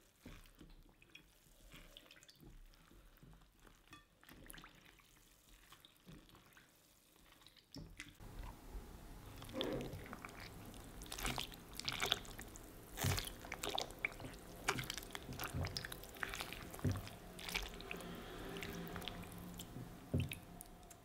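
Knitted fabric soaking in a basin of water is pressed down by hand, giving soft squelching, sloshing and bubbling sounds that grow busier partway through, close and quiet with no talking.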